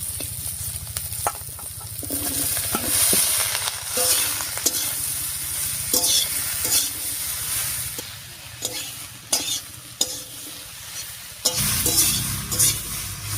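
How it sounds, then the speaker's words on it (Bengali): Dudh kochu stalks sizzle in hot oil with dried fish, green chilli and garlic, while a spatula stirs and scrapes the pan in close, irregular strokes over a steady frying hiss. "ডাটাটা দিয়ে একটু নাড়িয়ে নিলাম।"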